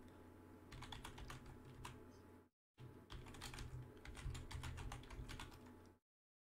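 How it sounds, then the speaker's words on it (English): Rapid keystrokes on a computer keyboard while a search term is entered into a web browser, close and steady, with a brief pause partway through before the clicking resumes until it stops. "Head on to your search browser and type in"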